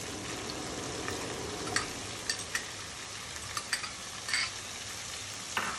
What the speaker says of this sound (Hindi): इसको अच्छे से सॉटे करेंगे।